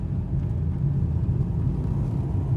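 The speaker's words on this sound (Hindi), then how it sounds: "तो थोड़ी सी ये वाइब्रेशन की आवाज आती है।" Steady low engine rumble of a 2022 Hyundai Aura in third gear with a faint vibrating rattle running through it, constant and close, no voices.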